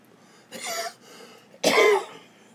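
A person gives two harsh coughs nearby, a shorter one followed by a louder, raspier one about a second later, with quiet in between.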